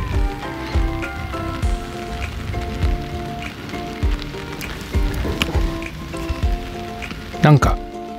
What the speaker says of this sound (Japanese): 雨なので